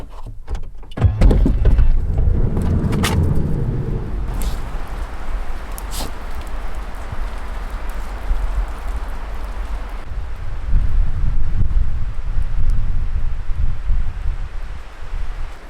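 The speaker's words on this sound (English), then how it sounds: "We've listened to the wind and rain for long enough now." Wind and rain beat on a van during a solo camping trip, a loud, continuous rushing wash with a few sharp knocks early on and a heavier gust swelling near the end, no voices.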